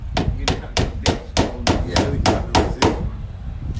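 Hammer blows on roofing material at a seafront building, about ten evenly spaced sharp strikes in a steady rhythm, close and loud over faint background noise.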